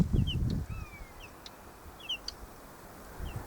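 Small birds outdoors give scattered thin chirps and a short whistled call, faint and fairly distant, with a brief low rustle at the start.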